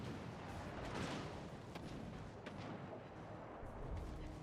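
Bismarck secondary guns firing in World of Warships Legends, a dense rumble of overlapping distant booms and thuds rolling continuously at moderate loudness with no voices.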